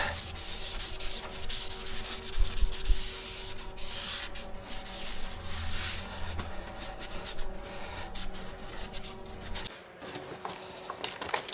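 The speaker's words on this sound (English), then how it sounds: "Now let's take our clean towel, finish cleaning off our rotor." A clean towel wipes the front brake rotor of a 1987 Chevrolet R20 pickup, producing continuous close rubbing and scrubbing that fades near the end.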